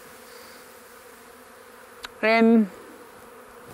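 Honey bees buzz around a hive left alone for 20 years during a rescue, with a low steady hum in the background and one loud, close buzz as a bee passes the microphone; a voice is briefly heard.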